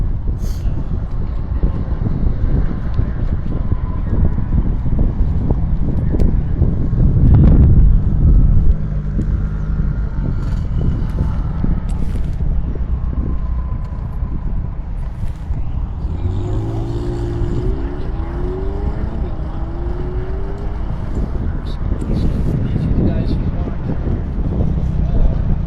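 A car circles a flooded wet skid pad counterclockwise at a tire testing track, its engine droning steadily with wind rumble and distant vehicle noise, and a brief louder surge partway through.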